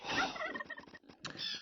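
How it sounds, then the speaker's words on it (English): A turkey gobbles in Age of Empires II on the Yucatan map, a single short warbling call that is close and clear with no talk over it. "all players have found a lot of turkeys"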